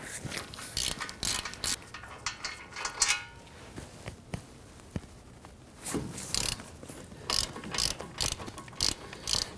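A ratchet loosening an 18mm caliper bracket bolt on a 2009-2017 Volvo XC60 during a front wheel bearing job, bursts of rapid clicking pawl ratcheting with metallic clanks and pauses between.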